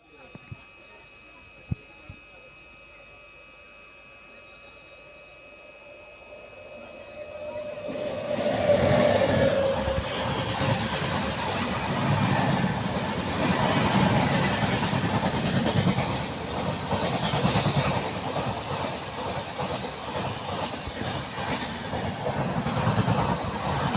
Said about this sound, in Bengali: আমাদের ট্রেন এখন ছেড়ে দিচ্ছে কামারকুণ্ডু স্টেশন থেকে